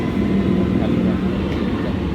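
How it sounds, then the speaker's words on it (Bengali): A Bardhaman local train rolls into Serampore station on a busy Sunday, a dense continuous rumble and roar filling the platform at close range. "এই যে ট্রেন ঢুকে গেছে"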